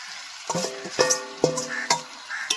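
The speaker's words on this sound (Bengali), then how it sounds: "তাই জন্য করে বারবার এরকম নাড়তে হয় এটা ভালো করে কষিয়ে নিলাম" Chicken skin and legs sautéed in a pan, stirred in several distinct scraping strokes over a light sizzle, close and fairly loud.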